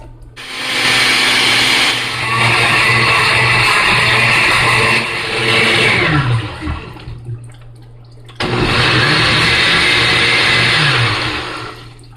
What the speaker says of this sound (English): I'm just going to add all of this to my blender, and I'm just going to blend these up into a nice mixture.